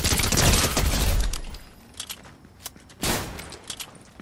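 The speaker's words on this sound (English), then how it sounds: "Who's shooting at me?" Gunfire in a Fortnite trios match: a dense, loud burst of rapid shots for about a second, then scattered sharper single cracks and a second burst, with faint footstep-like clicks between.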